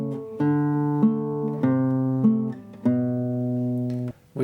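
Classical guitar plays a fast passage from Giuliani's Etude No. 11, Op. 100, without exchanging fingers, so some note changes sound slightly uneven. Sustained plucked notes ring close and clear, with a steady rhythm and no talking.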